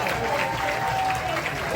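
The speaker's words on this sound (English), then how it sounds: "One more round of applause." Audience applause at a celebration of life dinner dance, a short steady wash of clapping from a crowded room that holds at moderate level throughout with no pause.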